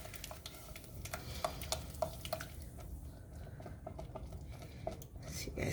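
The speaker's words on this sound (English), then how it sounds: "Make sure you're stirring." Blended konkonte being stirred in a pot for Ghanaian konkonte, with a steady wet churning and soft scraping, and repeated light clicks of the spoon against the pot, fairly quiet and close.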